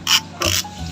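Ratchet wrench loosening a 17 mm oil drain plug bolt on a Yamaha Sight motorcycle, two quick, loud clicking bursts heard up close.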